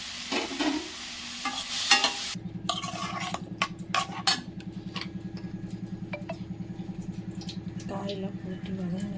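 Broad beans and vegetables stirred in a frying pan, with a steady close sizzle and repeated scraping clinks of a spoon against the pan, over a soft rhythmic hum; a person talks intermittently.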